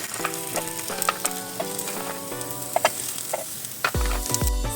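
Salted chestnuts roast in an old frying pan, giving a steady sizzle with repeated clinks and knocks as they shift, and a sharp louder hiss rising near the end; no talking.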